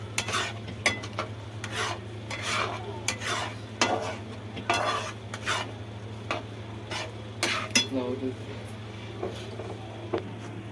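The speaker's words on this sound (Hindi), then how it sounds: "अब हम इसको फिर से मिक्स करेंगे" A spoon stirs white pasta in thickened milk in a pan, giving repeated scraping strokes against the metal with a soft simmer underneath, close and steady, with no talking.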